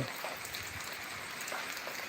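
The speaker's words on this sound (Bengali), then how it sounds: "বৃষ্টি কিন্তু গুড়ি গুড়ি বৃষ্টি পড়তেছে" Light drizzle falls on flowering plants outdoors, making a soft, even hiss of fine drops that stays faint and constant throughout.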